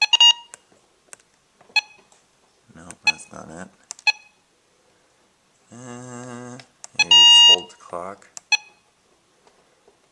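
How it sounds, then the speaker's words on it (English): A weather radio gives short electronic beeps as its buttons are pressed one after another, and one longer buzzing tone sounds midway, while a person talks quietly between the presses. "I don't know how to turn the alarm off"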